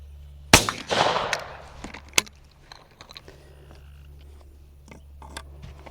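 A single sharp shotgun blast fires at a clay target during sporting clays (FITASC) training in wooded terrain, followed by a short echo tail over a steady low background hum.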